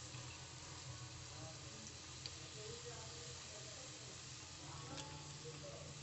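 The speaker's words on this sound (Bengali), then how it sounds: "ভেজে নিতে হবে বাদামি কালার করে।" Semolina pitha fries in hot oil until brown, giving a steady, soft sizzle and hiss that runs evenly throughout with no pause.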